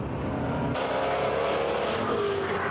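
Euro-Racecar NASCAR race cars braking into a corner on an aerodrome straight, a steady loud engine roar that shifts pitch as they pass and slow down, with no voices.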